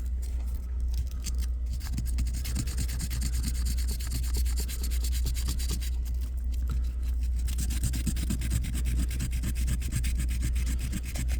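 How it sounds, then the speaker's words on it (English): Continuous scratchy rubbing of sandpaper against a guitar, close and steady with quick back-and-forth strokes over a low hum throughout. "I'm going to have to take the sandpaper."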